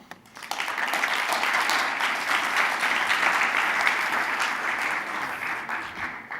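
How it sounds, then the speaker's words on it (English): Sustained audience clapping breaks out during a talk at a smart building industry event, starting quickly and holding steady at a dense, even level for several seconds before tapering slightly. "You're the first person to get a clapping ovation in the middle of your speech today."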